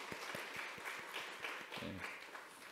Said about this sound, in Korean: 하나님께 영광의 박수를 드릴까요?